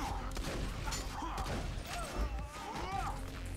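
Borderlands 2 co-op gameplay with shotgun fire, a dense burst of booming blasts and crashes mixed with game effects and a voice talking over the action.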